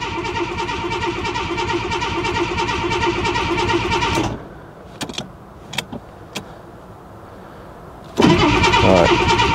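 Ford Granada Mk2 2.8 Ghia engine idling after starting: a steady, fairly smooth drone that drops away for a few seconds, broken by a few sharp clicks, then comes back loudly.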